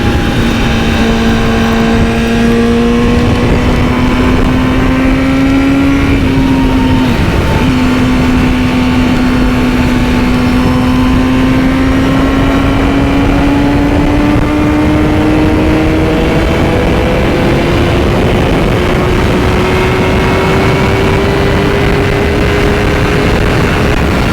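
A Honda CBR1000RR-RSP superbike engine at high speed, a loud, steady droning tone that climbs gradually in pitch as the bike accelerates, with heavy wind rush throughout.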